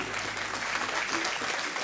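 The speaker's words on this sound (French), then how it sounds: "Allez, on les applaudit." A festival audience claps in sustained, dense applause, moderately loud and continuous throughout.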